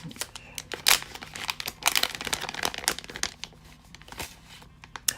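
A paper mystery envelope from a baseball card box break is torn open and its contents handled, giving close crinkling, rustling and tearing bursts over about five seconds.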